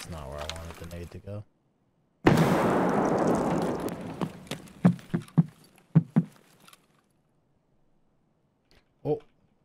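A grenade goes off in Escape From Tarkov, a sudden loud close blast trailing into a decaying rumble and scattered clattering debris, after a brief stretch of talk and followed by a few sharp pops.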